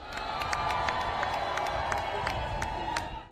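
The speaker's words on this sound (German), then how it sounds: "Hugh und Olivia vor den Augen der Menge und erhielten begeisterten Beifall" A crowd at a wedding ceremony cheers and applauds enthusiastically, a sustained wash of clapping with whoops and shouts rising throughout, heard from within the gathering before fading at the very end.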